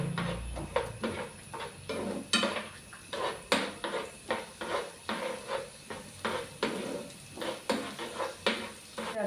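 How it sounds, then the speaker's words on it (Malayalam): Ingredients for a homemade snack are sautéed in a pan, with a spatula scraping and clanking against the metal in a steady, rhythmic stirring pattern, close and clear over a faint background sizzle. "ഇതൊന്ന് നമുക്ക് വഴറ്റി കൊടുക്കാം."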